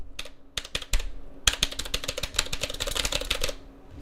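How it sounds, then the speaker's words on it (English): Clacky, close keystrokes rattle off a typewriter-style computer keyboard in quick irregular bursts, with a brief pause before a dense flurry of typing. "I am using a typewriter keyboard, so every movement I make,"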